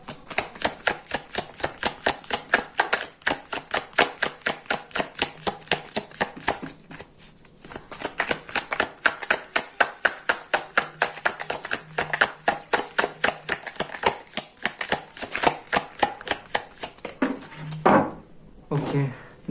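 Tarot cards are shuffled over and over in quick, regular flicking strokes, close and fairly quiet. A short pause comes partway through, and a couple of louder handling sounds follow near the end.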